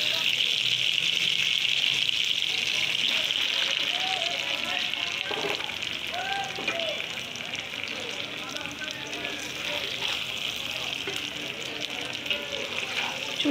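Taro stolons dropped into hot oil in a pan over medium-low heat, giving a steady, close hiss of frying that runs throughout with faint bubbling crackle.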